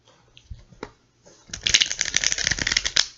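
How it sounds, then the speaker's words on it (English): Tarot cards being shuffled by hand, a few soft taps and riffles first, then a dense, continuous stretch of crisp, close card flutter and slapping. "you don't want to watch me shuffle the cards"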